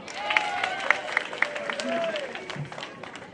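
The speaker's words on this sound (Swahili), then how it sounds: "Mkaribishe na makofi" Crowd applause at an outdoor political rally in Mathira, moderate clapping and cheering from many people with voices mixed in, sustained through the moment with some louder bursts.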